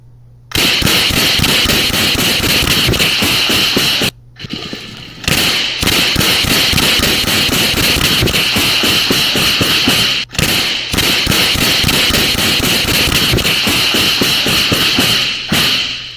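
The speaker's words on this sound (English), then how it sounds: "that's the suspect continuing to fire" A suspect fires at police during a shooting outside a store, with dense rapid bangs and thuds that are loud and clipped, repeating in long runs broken by two brief pauses.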